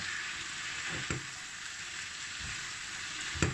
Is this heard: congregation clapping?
no